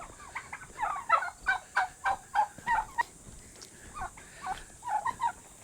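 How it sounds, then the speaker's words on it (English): A group of turkeys gobbles in a run of rapid, bubbling bursts, about a dozen calls in quick succession at moderate distance, with no talking. "Hi, turkeys."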